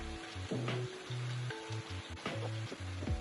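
Meat pie filling sizzles steadily in a pan while being stirred, with short scraping strokes of the spoon breaking through the constant close frying hiss.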